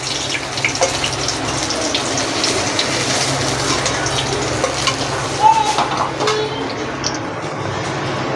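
Lote fish frying whole in hot oil, a dense, loud, continuous sizzle close by with a few faint clinks, no talk.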